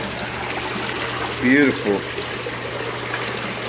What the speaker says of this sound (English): Look at these pumps, running water.